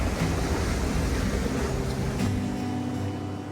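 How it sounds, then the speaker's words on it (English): Ocean surf rolls against a shore below a cliff, a broad continuous wash mixed with wind buffeting the microphone, steady and fairly loud before fading slightly at the end. "Listen to the waves."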